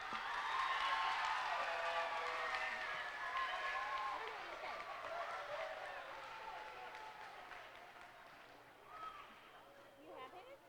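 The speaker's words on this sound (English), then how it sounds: "Let's give all of our kids with character a round of applause." Applause from a school ceremony audience for children being honored, broad clapping that swells early then thins and fades, with voices and crowd murmur layered over it.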